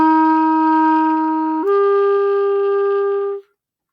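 Two slurred notes from a band instrument, a held higher pitch gliding straight into a lower one with no break in the airflow, steady and close, alone without talk.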